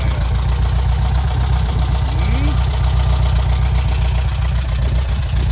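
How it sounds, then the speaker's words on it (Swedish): A kit car built on a VW Beetle with a fiberglass body idles steadily nearby, a loud low continuous engine rumble with a faint bit of voice over it. "Nu ska ni väl se vad det är för motor en sån här."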